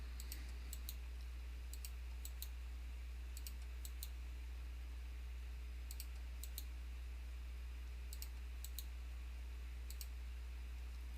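Computer mouse clicks in a software dialog come in quick close pairs and triplets at regular intervals over a steady low hum, with no talk.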